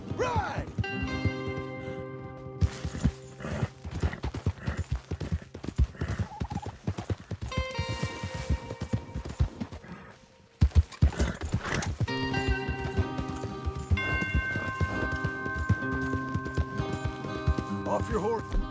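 Horses gallop in Red Dead Redemption 2, with dense, rapid hoofbeats running throughout and occasional whinnies. A brief pause in the middle breaks the clip, and the riders' voices and game music can be heard beneath the hooves.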